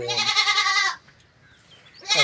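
A goat bleats loudly and close by in a long wavering cry, falls silent for about a second, then starts another bleat at the end.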